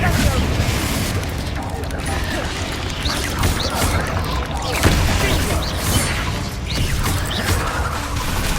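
Spell blasts from the Hogwarts Legacy video game, a dense run of crashing impacts, booms and whooshing bursts over several seconds, with a voice calling out spell names among them.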